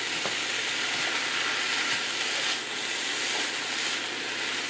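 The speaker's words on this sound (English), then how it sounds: "And you can hear that sizzling." Steady, loud sizzling hiss of extra-lean 93% ground beef frying in a pan, constant throughout with no talking.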